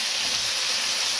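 Chicken sizzling in a preheated pan while making egg fried rice, a steady close hiss of frying with a faint low bubbling beneath, continuous and even throughout.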